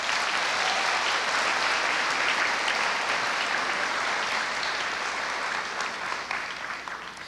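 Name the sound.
applause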